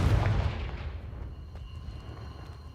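Confringo spell explosion in the Hogwarts Legacy video game, a single heavy booming blast that starts loud and rolls off into a long fading rumble with no talk.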